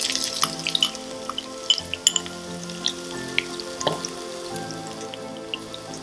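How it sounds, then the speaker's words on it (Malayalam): Crushed ginger and garlic tossed into hot oil in which mustard seeds have already popped, giving a steady close sizzle with scattered sharp crackles and pops throughout. "ഇനി നമ്മുടെ ഇഞ്ചിയും വെളുത്തുള്ളിയും കൂടി ചതച്ചത് ഇട്ട് കൊടുക്കുക."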